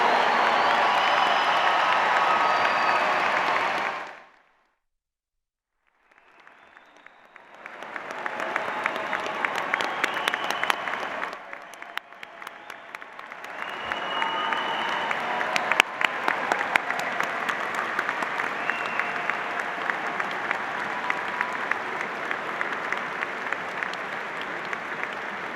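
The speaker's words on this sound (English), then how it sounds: "Please join me in a round of applause for the School of Engineering class of" A ceremony crowd gives a loud, dense round of applause for the School of Engineering class of 2022, breaking off briefly into silence before the clapping swells again and carries on steadily with scattered cheers.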